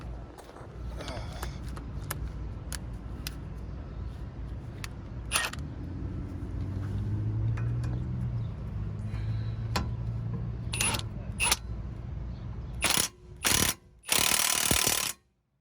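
An impact wrench works on an outer tie rod of a 2006 Nissan Maxima 6-speed. After a stretch of talk and light tool handling, it fires in a few short, loud bursts near the end.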